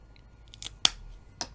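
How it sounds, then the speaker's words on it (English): Secateurs snip off growth on an overwintered chilli plant, with a few short, crisp cuts spaced apart, the sharpest one near the middle, close and fairly quiet. "Just going to get me secateurs. Just trim off that as well."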